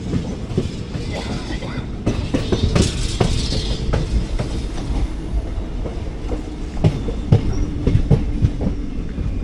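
A MEMU train on the Nilambur-Shoranur route on an early morning trial run, its wheels clicking steadily over rail joints with faint squeals, heard from on board, with some talking in the background.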